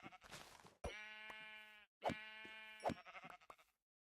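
Sheep in a video game bleat in a few short, clean synthetic calls separated by brief silences, clear and moderately close with no talk.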